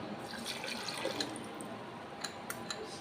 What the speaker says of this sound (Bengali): এরপরে দিয়ে দেব হচ্ছে দইয়ের পানিটা।